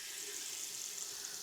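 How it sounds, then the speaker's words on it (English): Water runs steadily from a bathroom tap in a townhome, a faint, even hiss that holds without a break and has no voices over it. "We got to make sure that the water's working."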